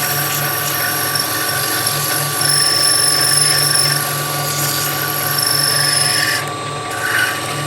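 Steady whirring of a spinning lathe with a continuous rasping rub of 180-grit sandpaper against a wooden top, rising and easing in waves.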